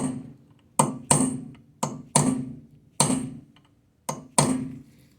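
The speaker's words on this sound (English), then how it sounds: "Let's go a little bit with the hammer." A hammer strikes metal seven times in an uneven rhythm while a Honda Accord CV axle is changed, each sharp clang ringing briefly before fading, close and fairly loud.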